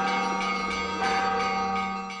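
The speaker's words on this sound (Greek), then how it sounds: "Οι καμπάνες στην εκκλησία της Κοιμήσεως στις καριές στην πρωτεύουσα του Αγίου Όρους χτυπούν χαρμόσυνα κατά την άφιξη του Βλαντιμίρ Πούτιν." Church bells ring joyfully at the Church of the Dormition in Karyes, capital of Mount Athos, several overlapping strokes sounding in a bright, sustained clang close by.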